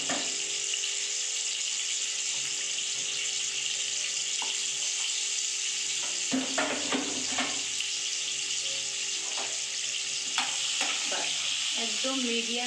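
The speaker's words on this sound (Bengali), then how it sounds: "অল্প অল্প নুন আর অল্প হলুদ দিয়ে আমি আগে আলুগুলোকে ভেজে নেব।" Potato pieces fry with a little salt and turmeric over a medium flame, a steady sizzle running throughout with intermittent stirring scrapes and clinks growing more frequent in the second half; no voices.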